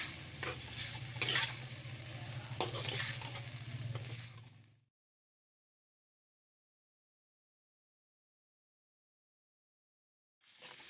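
Eggplant masala sautés in ghee in a pan, a steady close sizzle and frying crackle with occasional stirring scrapes for about five seconds before going silent.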